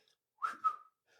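A person imitates a whistle with their mouth: a single two-part whistled call, a rising note and then a longer sliding tone, clear and fairly close, with quiet around it.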